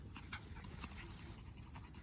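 Puppies panting softly and steadily, faint and close against a constant hiss, with no talking.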